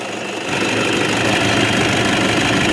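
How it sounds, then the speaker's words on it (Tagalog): A steady mechanical whir from a running car engine, with a constant grinding, rattling undertone from a worn bearing, close and loud, no voices. "alam niyo yung sirang bearing ganyan na ganyan yung tunog niyan"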